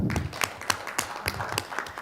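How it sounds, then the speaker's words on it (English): An audience at a conference session claps, scattered distinct hand claps at an irregular rhythm, fairly sparse and moderately loud. "So thank you, a big applause."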